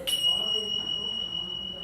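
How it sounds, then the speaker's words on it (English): At an open mic, a chime signals one minute of speaking time left: a single clear, sustained bell-like tone rings out and holds steady for the whole moment over faint room murmur. "once you hear like the chimes playing, I'm not turning it off because that means your time is up"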